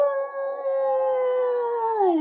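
A human voice imitates a wolf howl, one long sustained tone that slowly falls in pitch and bends downward at the end, loud and close, with no other sound.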